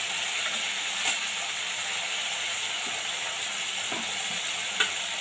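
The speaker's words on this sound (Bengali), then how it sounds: "এবার মশলাটা খুব ভালো করে কষিয়ে নেব" Potatoes and spice paste fry in a pan, giving a loud, steady hiss and sizzle throughout, broken by occasional spatula scrapes and taps against the metal. No voices are heard.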